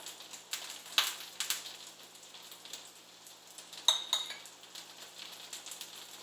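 A spoon scrapes and clinks against a pan as marinara sauce is ladled onto chicken parmesan, soft scraping and a few sharper metallic taps, quiet and close.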